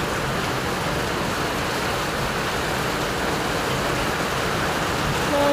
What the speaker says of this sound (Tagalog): Sobrang lakas talaga ng ulan guys.